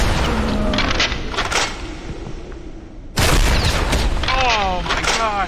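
Gunfire in the physics-based shooter Maximum Action, with booming shots and crackling bursts mixed with game noise, while someone talks over parts of it.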